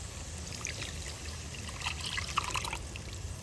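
Spice water left from washing a bowl is poured out in a steady, close trickle. Light splashes and drips rise in the middle, with no voices heard.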